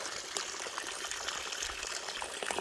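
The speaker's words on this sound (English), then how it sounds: "Crystal clear mountain spring water." Crystal clear mountain spring water trickles and splashes steadily outdoors, a close, continuous bright watery hiss with small bubbling bursts and no talk over it.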